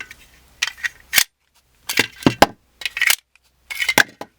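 Metal Wilson Combat 1911 pistol magazines for a Rock Island Armory 10mm dropping free and being inserted, giving a series of four separate sharp metallic clacks and rattles with short quiet gaps, close and clear.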